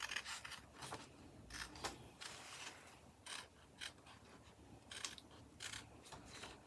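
Scissors snipping through trucker hat material at close range, a run of short crisp cuts and rustling of fabric in irregular bursts, with no talking.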